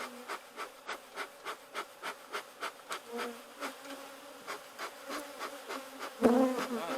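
Honey bees buzz close around a beekeeper's smoker as it is being lit, a steady hum pulsing in a regular rhythm, with a sudden scrape or rustle near the end.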